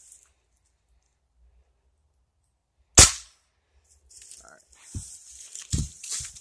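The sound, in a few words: Ruger Impact Max .22 pellet rifle shot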